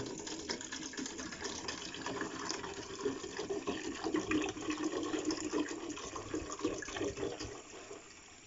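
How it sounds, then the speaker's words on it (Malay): About a liter of water is poured steadily into a container while a liquid fertilizer is made from banana peels. The continuous splashing gush lasts several seconds at an even level, then tapers off near the end. "ambil air lebih kurang 1 liter macam tu, teman ya. Kita tuang ke dalam bekas ni ya"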